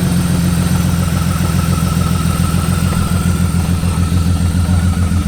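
A car engine with a misfiring cylinder idles loudly and steadily up close, its low rumble carrying an uneven, stumbling pulse and a faint high whine over the top.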